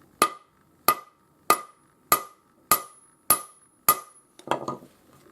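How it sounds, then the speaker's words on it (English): A ball peen hammer drives decorative shot into a metal plate with seven sharp, ringing strikes at an even pace, then a short cluster of lighter taps, each blow close and loud against a quiet background. "just use a ball peen or a cross peen hammer to hammer it in."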